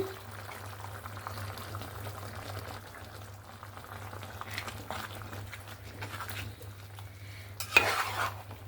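Chicken is sautéed with a ground spice paste over a raised gas flame, with soft continuous stirring and a low sizzle, faint and steady, plus a brief louder clank of a spoon or lid near the end.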